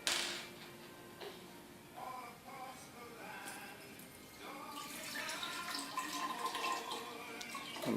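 Water poured into a jug for a homemade lava lamp experiment, a faint trickling splash that starts softly and grows into a fuller, steadier gurgle near the end, quiet and close.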